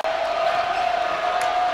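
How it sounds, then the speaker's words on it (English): A high school basketball crowd roars steadily through the gym during a game between SJJ and Toledo Central Catholic, with a broad, sustained wash of cheering and a faint whistle-like tone running underneath. "We just saw Kimmons ignite the crowd."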